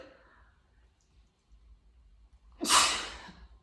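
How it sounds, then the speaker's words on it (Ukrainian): A single sharp sneeze bursts out loudly after a few seconds of near silence and faint breathing, brief and close. "Зараз буду чихати."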